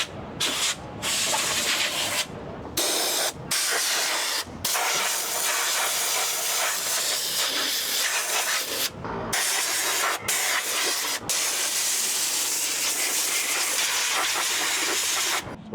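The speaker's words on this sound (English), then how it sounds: "So that was a compressed air gun, and it's very handy because you can clean your shoes with some compressed air" Compressed air gun blasting sand off shoes in repeated loud hissing bursts, broken by brief pauses, close and steady with no talking.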